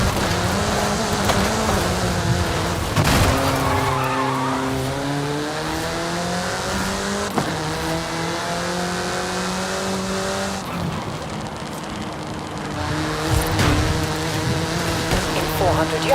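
A sports car in a 3D driving simulator game accelerates through repeated rising gear-shift sweeps, its engine note climbing, dropping and climbing again loudly for the whole stretch.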